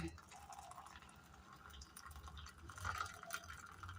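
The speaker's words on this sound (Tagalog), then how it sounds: "Tapos, lagyan na natin siya ng tubig." Hot water pours faintly onto instant coffee powder in a cup, a soft, steady trickle with a few drips across the whole stretch.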